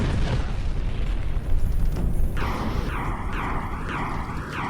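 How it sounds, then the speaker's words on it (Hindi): A Russian missile strike in Ukraine, from a missile built to destroy aircraft carriers, bursts into a loud, sustained roaring blast, with wavering tonal sweeps rising over the rumble toward the end. "उसी खतरनाक मिसाइल को अब रूस यूक्रेन में दाग रहा है।"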